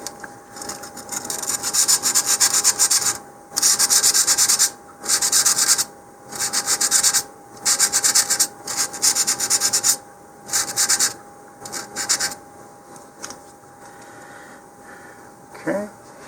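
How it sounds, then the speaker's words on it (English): Sandpaper scratches the launch lug area of a Mach1 Boost BT-50 model rocket in repeated close bursts of rasping strokes, separated by short pauses, before the rubbing fades into a quieter stretch. "I'm going to go ahead and scratch that area as well."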